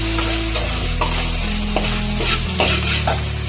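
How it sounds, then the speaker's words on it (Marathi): Green chillies being stirred into okra frying in oil in a pan, a steady loud sizzle with a few soft scraping strokes of the spoon, close and continuous with no talking. "मिरची हलवून घेऊ भेंडीमध्ये।"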